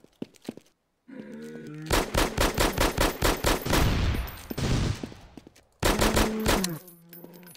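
Gunfire in Garry's Mod from dinosaur NPCs in a Dino D-Day battle: rapid bursts of loud, close automatic shots in quick regular rhythm, a brief lull filled with a buzzing, whining tone, then another heavy burst, with no talk.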